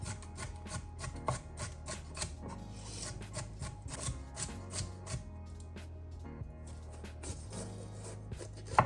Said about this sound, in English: We're gonna dice the onion finely.